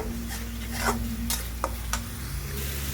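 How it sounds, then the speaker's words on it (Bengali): Spice masala for pomfret curry being stirred and fried in a pan with a little water, a low steady sizzle broken by a few sharp scraping stirs, close and moderately loud. "কষিয়ে নিচ্ছি আমি ভালো করে মশলাটাকে।"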